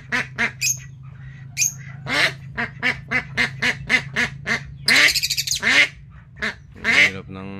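A drake duck (itik) with an upside-down wing quacks and squawks in a rapid series of loud, close, harsh calls, one drawn-out squawk among them, over a steady low hum.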